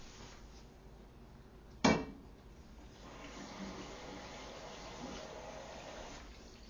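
Cooked hamburger meat drained from a frying pan: a sharp metallic clank of the pan, then a soft, steady pouring hiss of liquid running off for several seconds.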